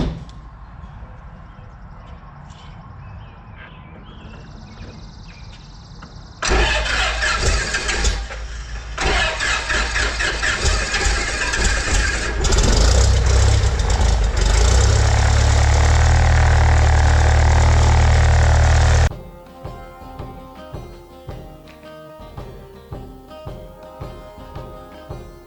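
Small propeller aircraft engine cranking and catching, then rising to a loud, steady rumbling idle before settling back lower, heard close from the cockpit with faint clicks and no talking.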